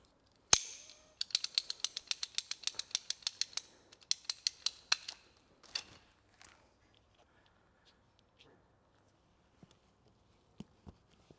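Small section of pipe being cut with a pipe cutter during hot tub solar heating plumbing work, a quick burst of close ratcheting clicks followed by a few scattered clicks and taps in near silence.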